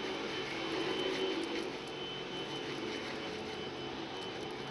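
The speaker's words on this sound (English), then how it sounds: "Sounds like somebody's vacuuming too." A vacuum cleaner drones steadily in the background of a room where clay is being sculpted, a continuous broadband whoosh that stays at an even level throughout with no talk.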